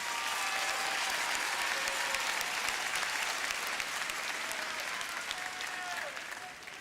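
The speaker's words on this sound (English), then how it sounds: "Give yourselves another round of applause." Sustained applause from a graduating high school class and audience at a 2022 commencement ceremony, dense steady clapping filling the space, holding loud throughout and easing slightly toward the end, with faint voices mixed in.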